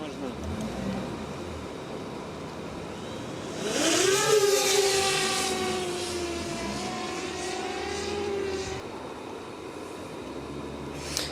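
A Vyriy combat drone flies close by during a guidance system test, with its propeller whine rising in pitch and then holding a steady, sliding tone. Someone speaks over it at times.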